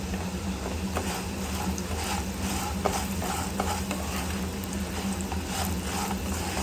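Chilli frying in a pan for a vegetarian Korean ramen bowl, a steady dense sizzle with scattered crackles and faint scraping of stirring, continuous and close for the whole stretch, no voices.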